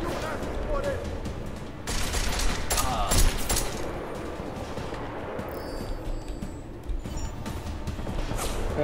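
Gunfire in the video game Deus Ex: Mankind Divided, a busy run of shots and impacts at mid distance, with someone talking over the action.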